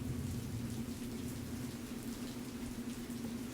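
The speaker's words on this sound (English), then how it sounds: "the sound of the rain gets louder" Steady rain falls continuously, a dense even hiss with a low hum underneath, no voices.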